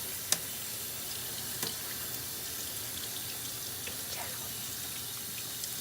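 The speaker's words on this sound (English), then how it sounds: "you'll want to rinse this in water so that all the soap is off" Running tap water rinsing an object clean of soap, a steady soft hiss of flow with a few faint clinks and splashes, fairly quiet and continuous with no talking.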